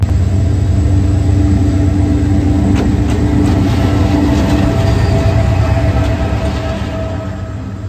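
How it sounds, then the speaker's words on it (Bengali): A passenger train pulls into a station on a line bound for Chittagong, a steady loud rumble of wheels and carriages with faint squeals and clanks, gradually easing toward the end. "ফাইনালি এখন ট্রেন চলে এসেছে"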